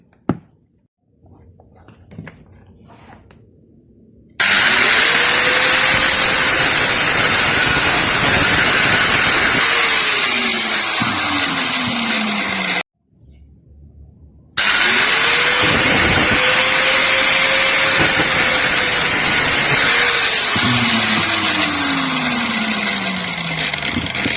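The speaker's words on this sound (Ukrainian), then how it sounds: "Як завжди, застосуємо болгарку, роз'єднаємо і зріжемо катушку." An angle grinder whines loudly as it cuts through a washing machine motor in two long bursts, spinning up and winding down, with a short quiet pause between.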